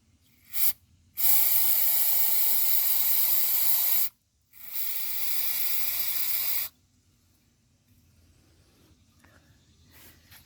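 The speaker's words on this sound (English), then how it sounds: "So let's take the brake cleaner" Brake cleaner hisses into a cylinder of a Ford Ranger 2.5L engine in two long, loud aerosol bursts of about three and two seconds, with a short puff before them and quiet shop background after.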